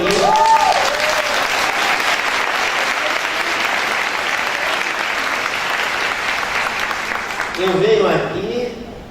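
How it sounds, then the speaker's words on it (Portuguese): An audience applauds a lecturer for several seconds, a full even wash of clapping that swells and then tapers, with faint voices emerging near the end. "Esse sim merece o nosso aplauso."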